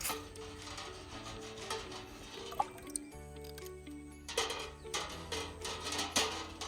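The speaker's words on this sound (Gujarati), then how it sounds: "તો હવે આ બોટલ નાખું છું પાણીમાં" A glass bottle is dipped into water, producing close gurgles, drips and bubbling as it fills, with a couple of small knocks and sloshing pulses toward the end.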